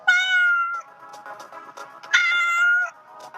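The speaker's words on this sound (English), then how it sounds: "Cats meow." A cat meows twice at close range, each call a clear, drawn-out, tonal meow lasting under a second, separated by a short quiet gap with faint rustling.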